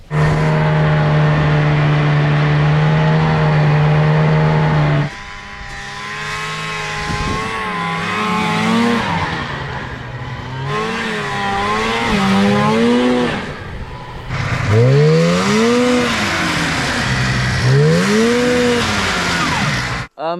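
A cheap used snowmobile engine revs steadily and loudly, the pitch rising and falling in repeated swoops as the throttle is worked while the clutch fails to catch, with a voice heard faintly over it.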